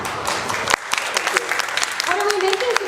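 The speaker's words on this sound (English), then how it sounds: "we'll just welcome you with a bit of a round of applause" A studio audience gives a short burst of applause to welcome a cooking presenter and her assistant, loud and close, with a voice speaking over the clapping near the end.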